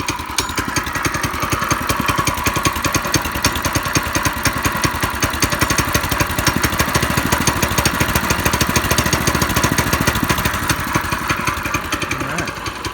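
A Yerf Dog 3203 dune buggy's small engine idles loud and close just after starting, a steady fast chugging putter that stays even throughout.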